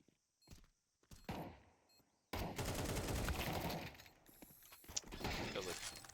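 Gunfire in Counter-Strike on the map Ancient: a few isolated shots open, then a dense burst of rapid automatic fire with mechanical clatter and a couple of sharper cracks near the end, loud and close, with no voices.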